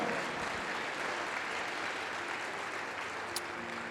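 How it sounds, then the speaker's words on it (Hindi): A church congregation claps steadily in praise during a Hindi sermon, a dense, continuous wash of many hands filling the room at a fairly distant level with no talk over it. "तारीफ करो ताली बजाकर मेरे यहोवा की।"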